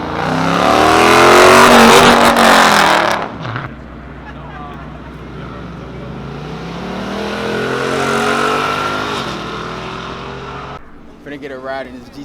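A Nissan GT-R R35 at a car meet revs loudly and close for a few seconds, drops to a lower steady rumble, then swells again before cutting off.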